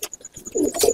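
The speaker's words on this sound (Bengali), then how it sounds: "এটা মেন ধাড়ি পায়রা।" A main breeding pigeon in a loft gives a short close coo after a few soft clicks and rustles, with no talk.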